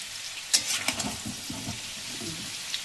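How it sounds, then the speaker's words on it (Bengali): Small new potatoes frying in white oil with whole garam masala and cumin, a soft, even sizzle with a few brief splutters and clinks near the start, no talking. "লাল করে ভেজে নিলাম"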